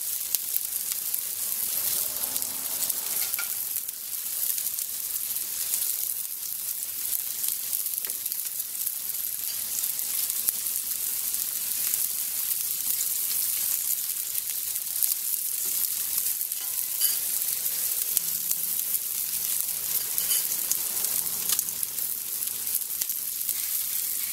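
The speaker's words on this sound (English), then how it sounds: "you can actually hear it sizzling" Continuous bright sizzling of fish cooking on a Yoshi grill mat, crackling evenly throughout with no talking.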